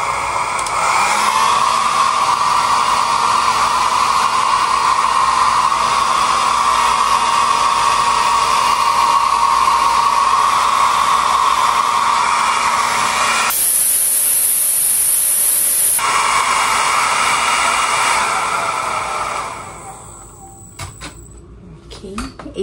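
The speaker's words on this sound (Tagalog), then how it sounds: "i-blow dry, and then, i-pa-flat iron. So, try na natin mga dryer." A hair dryer blows steadily as it dries hair, a loud continuous whirring hiss with a tonal hum that briefly shifts pitch and then winds down near the end, with faint clinks and a little talking at the close.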